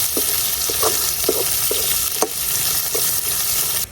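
Washed dried fish sautéing with onion and garlic in a pan, a dense steady sizzle close up with repeated light scraping and stirring taps spaced through it.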